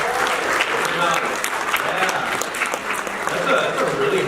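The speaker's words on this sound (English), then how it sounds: "Let's give a round of applause." An audience at a C2E2 2023 convention panel breaks into steady, full applause that carries evenly from start to end.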